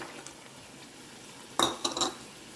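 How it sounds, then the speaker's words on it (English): Onion being stirred in a pan deglazed with wine for steak pizzaiola: a quiet stretch, then a few close scraping, clinking stirs over a faint sizzle. "And stir."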